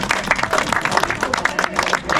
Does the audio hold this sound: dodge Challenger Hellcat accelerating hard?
no